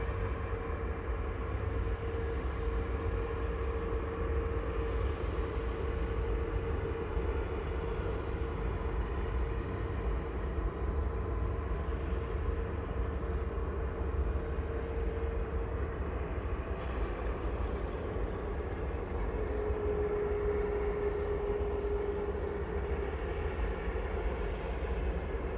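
Airliner jet engines at Manchester Airport, where an A380 is operating, roar in a continuous, steady drone that holds at a constant level throughout, with no voices.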